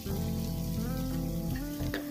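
Green chili paste hits hot ghee in a pan and sizzles, a close, bright crackling fry with popping bursts that carries on steadily with no talking.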